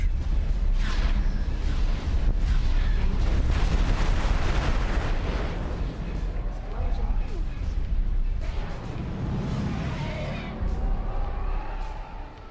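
Turret fire in the space game X4 Star Wars Interworlds, a steady stream of loud booming blasts and rumbling explosions running throughout with little pause, dense and heavy, with a voice talking over it.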